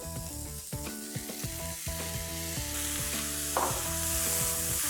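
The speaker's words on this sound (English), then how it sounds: "I'll add in crushed ginger, garlic and green chilies. Saute this for 30 to 40 seconds." Crushed ginger, garlic and green chilies sauté in a hot pan, giving a continuous bright sizzle with occasional stirring, under a steady melodic background.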